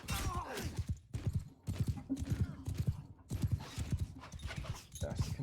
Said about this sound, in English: Let's get our horse archers involved now